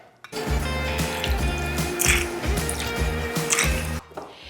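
Bourbon pours into a glass over ice, a close, continuous liquid stream with small clinks and gurgles of cubes shifting, lasting several seconds before stopping abruptly, with no speech.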